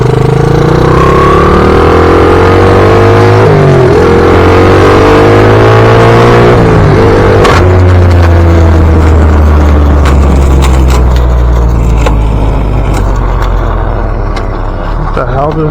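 A Honda XL80 motorcycle engine runs loud and close, revving with rising and falling pitch sweeps before the tone changes and the engine seems to lock up; a voice talks over it.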